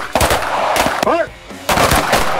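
Handgun shots ring out at close range during a close-retention shooting drill, a rapid cluster of sharp, loud cracks, a brief pause, then another burst, with a short voice in the gap between them.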